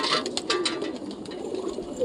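Pigeons coo and flutter nearby in a busy, steady backdrop, with a few short bursts of wingbeats or scuffling and no talking.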